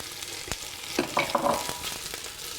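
Onion frying in a pan for red-braised beef and tendon, a close crackling sizzle with brief spatula scrapes and clatter in the middle.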